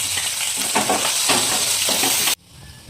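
Chopped green chillies and ginger stirred in a frying pan, a dense close sizzle with stirring scrapes that cuts off abruptly near the end.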